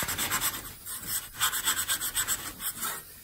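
Old chrome metal is rubbed with polishing compound in quick, rhythmic scrubbing strokes, each a rasping, scratchy pass that sounds close and continuous.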